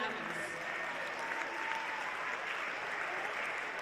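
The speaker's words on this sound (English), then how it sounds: "Can we give a massive round of applause to the grade 11s?" A crowd at a school closing ceremony claps steadily for grade 11 students, a dense, even wash of applause that holds at the same level for the full few seconds.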